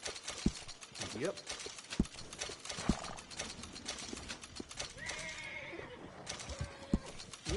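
Horse in Red Dead Redemption II whinnying and clip-clopping, with several sharp hoof strikes at irregular intervals and a neigh midway, heard close amid ambient game sounds with some faint voices.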